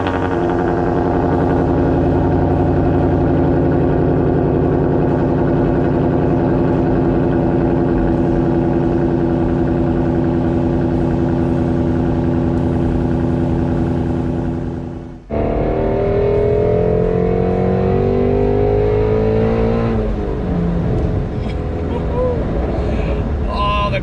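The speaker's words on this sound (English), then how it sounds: "Let's cold start the car," Cold start of a Shelby GT350's engine: a steady loud idle rumble, then a sharp crank-over around midway into a rising, revving roar that settles back to a busy idle.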